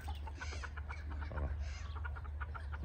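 Chickens cluck on a farm near a pig wallow, several short clucks and calls repeating close by over steady low wind or engine rumble, with people talking faintly in the background.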